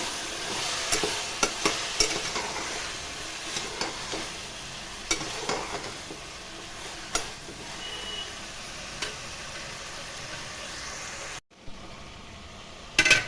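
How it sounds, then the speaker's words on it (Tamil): Soaked green peas and vegetables sizzle steadily as they are sautéed in oil in a pan for bisibelebath, with frequent sharp taps of a spoon stirring them close by; the sizzle cuts off briefly near the end. "பச்சை பட்டாணி ஊற வச்சுக்கிறேன், இதிலே போட்டு வதக்கலாம். நல்லா வதங்கட்ட காய்."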